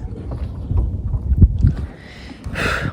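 A fishing boat's engine rumbles low and close during night fishing at sea off Bhairavapalem, with gusts of wind buffeting the microphone over the short stretch.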